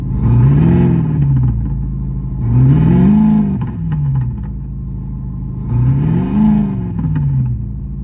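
A Fiat Egea playing a simulated Nissan 350Z exhaust note through an OBD app: three loud, close rev swells that rise and fall over a steady idling rumble, with no talk.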